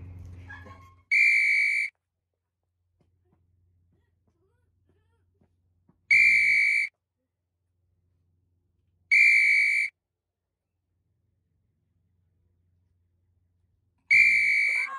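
Four sharp, shrill whistle blasts, each lasting under a second, separated by long silent gaps, loud and close.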